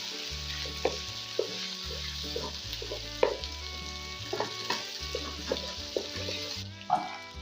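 Three pav of chicken roasting (bhunai) in a handi: a steady close sizzle broken by repeated clicking scrapes of stirring, with a low droning music bed underneath.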